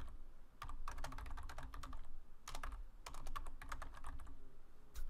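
Quick clusters of soft keystrokes clatter on a computer keyboard, typed in short uneven bursts with brief pauses between them, close and fairly quiet.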